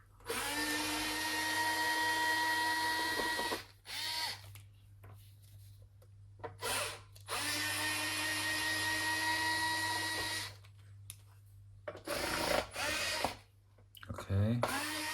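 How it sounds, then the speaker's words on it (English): Power screwdriver removing the T8 black screws from an Xbox One S, several loud whirring bursts of a few seconds each separated by pauses, with brief talk and handling sounds between them. "So I'm opening the X-Claim screws"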